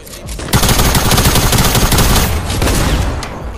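Rapid automatic gunfire from a video game, a dense sustained burst of loud shots that runs for a few seconds after a brief quieter lead-in, then eases slightly while still firing.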